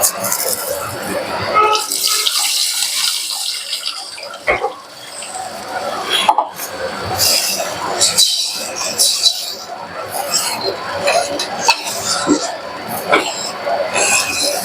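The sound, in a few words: water being added to fish curry pan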